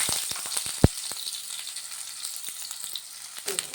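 Cut potatoes fry in hot oil with bay leaf, cumin and whole garam masala, a fairly quiet, even sizzle broken by sharp clicks and one loud knock near the start; no voices.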